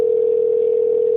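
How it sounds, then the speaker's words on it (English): A telephone ringback tone sounds while a call is being placed, a single steady unbroken tone held at a constant level through the whole short moment with no voices over it. "a ringtone. That's always a good sign."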